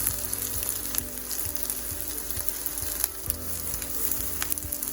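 Ukrainian oladji pancakes frying in plenty of oil in a pan, a steady close sizzle and crackle with small pops and a few faint stirring or utensil sounds throughout.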